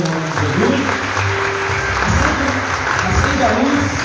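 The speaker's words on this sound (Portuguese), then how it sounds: "Aplauda o Senhor em nome de Jesus." A church congregation applauds at a Christmas cantata service, a dense steady wash of clapping filling the room, with a voice speaking over it throughout.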